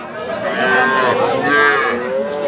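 A young female calf moos loudly and steadily, a long wavering bleat that swells and dips, close by, with no talk over it.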